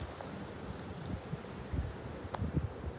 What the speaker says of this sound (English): Listen closely, and you can hear the wind.